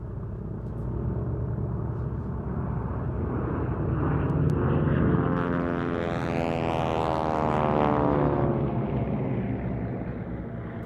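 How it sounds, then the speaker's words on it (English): Vintage propeller aircraft — a Beech D-17S Staggerwing, Travel Air Type R Mystery Ship and Spartan 7W Executive — flying past at an air display, a rumbling radial drone swelling as they approach and pass, then fading, distant but steady. "Look out to your right, running in the Beech D-17S, the Staggerwing, the Travel Air Type R, the Mystery Ship, and the Spartan"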